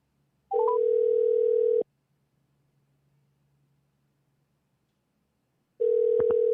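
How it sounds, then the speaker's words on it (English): A telephone ringback tone sounds in two long steady bursts separated by a quiet gap, each burst opening with a short rising run of dial tones on a call to an emergency services number. "Here, let's call this other number that they've got listed here."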